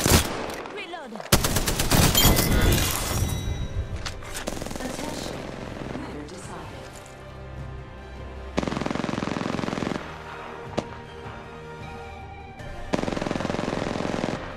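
Automatic gunfire rattles through a gunfight in the video game Apex Legends, loud close bursts breaking off into quieter stretches before several more sharp volleys of rapid shots.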